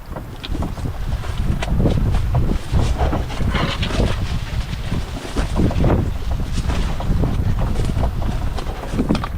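Strong wind buffets a canoe on a lake in the Woodland Caribou wilderness park, loud gusty rumbling against the microphone with irregular knocks and sloshing of water against the hull, continuous and close.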